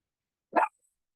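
A small pet dog named Pebbles lets out a single sharp bark at a delivery, close and loud, in an otherwise quiet moment.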